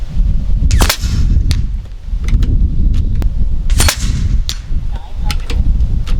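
A Kalibrgun Cricket .25 airgun fires slugs outdoors, several sharp, loud cracks spaced irregularly over a few seconds against a low rumbling background.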